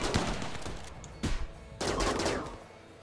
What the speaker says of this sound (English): Did we actually shoot one of their guys?